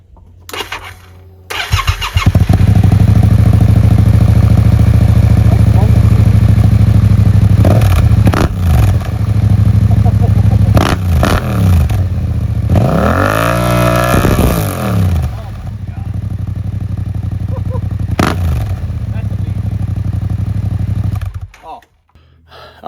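A Yamaha MT-07 motorcycle with an upgraded aftermarket exhaust cranks and starts, then idles loudly close by with several sharp revs rising and falling before shutting off.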